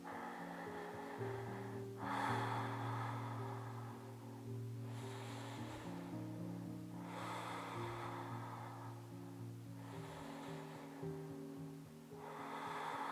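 Slow, deep breaths during a seated yoga twist, each long airy inhale and exhale rising and falling in a steady rhythm under a soft, sustained background tone, close and quiet.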